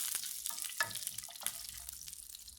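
Shallots and cashew nuts frying in hot oil for an egg curry, a soft steady sizzle with a few brief stirring clinks and scrapes, close and fairly quiet.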